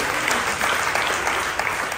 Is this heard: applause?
yes